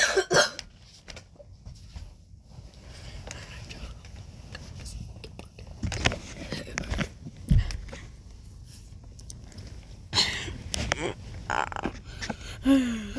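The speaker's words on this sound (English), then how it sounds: "That's why I coughed." A few short, scattered coughs and throat sounds from a tired person with a stuffy nose, quiet and close in an otherwise hushed room, with some soft talking mixed in.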